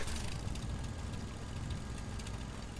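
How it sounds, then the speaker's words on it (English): In Fallout 4, a generator runs with a steady, low, rumbling engine drone. The drone is quiet and unbroken, with a rough putter like a small motorbike and no talking over it. "it sounds like a little shitty motorbike"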